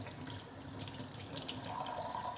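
Water runs steadily from a tap into a container to soak rockwool cubes for hydroponics, a continuous close splashing stream with no voices.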